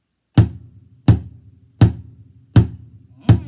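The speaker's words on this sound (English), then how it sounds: "Maybe you should use your bass drum or the lowest sound that you have." Five deep, booming bass drum hits struck as thunder, evenly spaced about three-quarters of a second apart, each with a low ringing tail that fades before the next, played alone with no talk.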